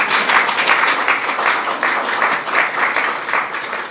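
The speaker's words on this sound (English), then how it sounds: "You can applaud that if you want." Audience applause at a swearing-in ceremony for the administrator of the Centers for Medicare and Medicaid Services, a steady, fairly loud burst of many hands clapping that swells and eases over a few seconds.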